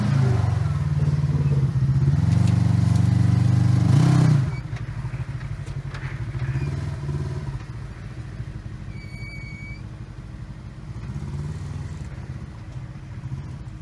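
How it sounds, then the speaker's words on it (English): A Kawasaki KRX 1000 UTV engine roars loudly on sand at first, then settles into a lower, rougher drone with rattling as the machine drives on through the dunes. "Caton's driving the O-Bar Tires KRX 1000."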